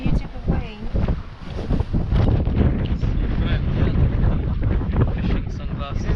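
A sailboat runs at 3.8 knots in an 18-knot wind off Scotland, with gusty wind buffeting the microphone, water rushing along the hull and occasional voices under the noise.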